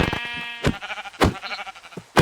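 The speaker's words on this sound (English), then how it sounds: "Why is there a sheep?" A sheep in a video game bleats with a wavering, nasal cry, followed by a few sharp clicking sounds at moderate loudness.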